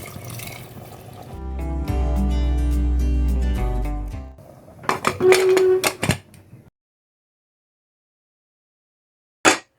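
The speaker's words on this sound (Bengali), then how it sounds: "কড়ার মধ্যে যে মশলাটা লেগেছিল তার সঙ্গে আরও বেশ কিছুটা জল দিয়ে গরম করে নিয়েছি, সেই জলটাই এখন দিয়ে দিচ্ছি" Hot water, heated with the spices left in the wok, poured into a pot of mutton curry: a steady, close gurgling pour for several seconds, followed by a few clattering knocks and then silence.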